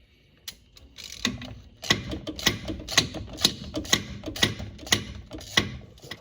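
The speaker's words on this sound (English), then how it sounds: "I've got a little ratchet wrench here." A small ratchet wrench loosens the fuel pump bolts on a 1978 Ford Bronco with a 351M/400 engine, giving a series of sharp, regularly spaced ratcheting clicks, close and fairly loud, with no talking.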